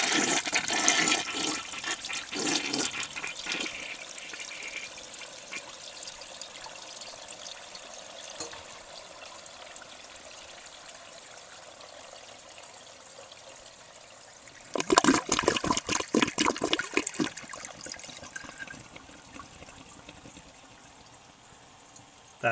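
A 1966 Mansfield Simplex toilet flushes with a loud opening rush of water that eases into trickling refill, then a second strong surge of flushing water near the end.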